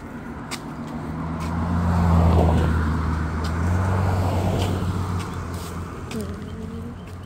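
A scooter engine hums in high gear while climbing a hill, its tone rising and falling under a swell of road and wind noise, with a few quacking or squeaking bursts nearby.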